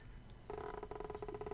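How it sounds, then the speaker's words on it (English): Haptic vibration from a Steam Controller trackpad, a quiet close buzz that starts suddenly after a near-silent moment and continues as a fast ticking hum, with no voices. "That's the haptic feedback."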